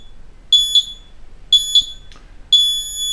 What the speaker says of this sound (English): There'll be a beep in the last 3 seconds.